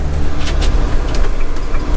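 Road traffic streams steadily around a busy roundabout, a loud, continuous rumble of passing cars and larger vehicles with no pauses.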